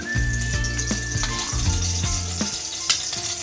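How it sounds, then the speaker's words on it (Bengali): About two spoons of butter melting and sizzling in a hot pan for butter chicken, a steady close frying hiss with a low hum behind it. "2 চামচের মতো বাটার দিলাম।"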